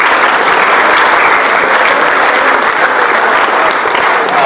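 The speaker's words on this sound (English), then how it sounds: "Please give them a round of applause" Dense, loud applause from a crowd at an evening presentation event, a steady wash of many hands clapping continuously without pause.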